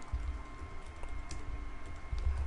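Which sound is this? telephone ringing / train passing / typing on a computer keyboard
typing on a computer keyboard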